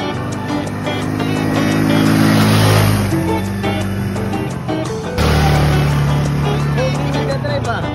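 Car driving on the way to a beach day, its engine rising through gears with a shift and renewed pull near the end, heard from inside the cabin as a steady, fairly loud drone.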